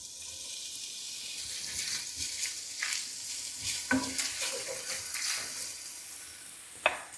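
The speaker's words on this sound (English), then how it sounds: "To the lard, I'm gonna add half of a chopped onion." Chopped onion frying in lard in a pan, a steady bright sizzle with scattered crackles and a few sharp pops, fairly close and heard without any talking.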